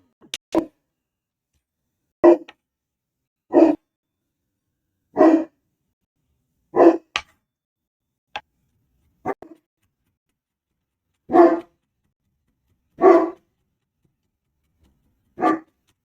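A dog barks in a kitchen during home cooking, ten or so single sharp barks spaced about every one to two seconds with silence between, fairly close and loud, no speech.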